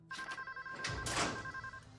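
A telephone rings quietly with a steady electronic double tone that lasts about two seconds, with faint background noise and no voices.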